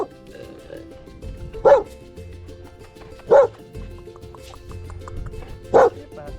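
Dogs sunning themselves outdoors after heavy rain bark three times at spaced intervals, each bark short and fairly close, over a quiet background with faint scraping activity.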